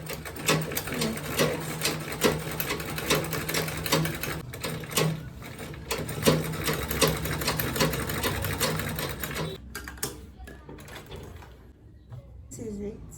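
A sewing machine bastes a quilted tote bag with boxed corners in rapid, rattling bursts of stitching, pausing briefly, while a person talks over it.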